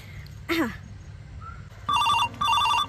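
A telephone rings in two bursts of electronic trilling tones, loud and close, after a brief sweep of sound and some background murmur.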